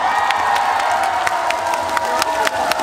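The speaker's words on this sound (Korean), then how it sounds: "박수 한번 주세요" A festival crowd at the Cheongyang chili and goji berry festival applauds and cheers for a singer, with dense continuous clapping, scattered whoops and shouts, loud and sustained throughout.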